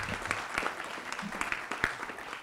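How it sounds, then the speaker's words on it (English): Audience at a high school business incubator event giving student presenters another round of applause, a fairly faint, steady clapping from a modest crowd with a few sharper claps standing out. "Can we give them another round of applause?"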